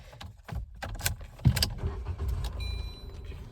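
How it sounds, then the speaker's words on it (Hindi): A car is unlocked and started after leaving a village temple: keys jangle and clicks and thuds come from inside the vehicle, over a low continuous rumble that carries throughout. "गाड़ी करी स्टार्ट, चलाई एसी, हटाई हैंडब्रेक और डाला पहला गियर।"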